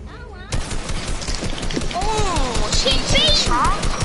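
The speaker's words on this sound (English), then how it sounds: "He's shooting you." Rapid gunfire in the video game Fortnite, dense bursts of shots crackling continuously at close range, with excited voices talking over the shooting throughout.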